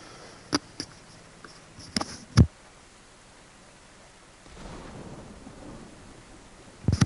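Rain in the DayZ video game: a few sharp, isolated knocks and cracks, then a soft, hissing wash of rainfall that builds toward the end. No voices.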